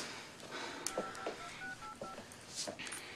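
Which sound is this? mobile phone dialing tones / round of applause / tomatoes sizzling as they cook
mobile phone dialing tones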